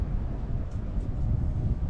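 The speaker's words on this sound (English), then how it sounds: "It's starting to get windy." Steady wind blows and buffets the microphone, a constant low roar with no other distinct sounds.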